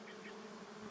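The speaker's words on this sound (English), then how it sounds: "All I can hear is bees and mosquitoes right now." Bees and mosquitoes buzz steadily and continuously by a remote lake, a close, sustained insect drone filling the whole moment with no talk.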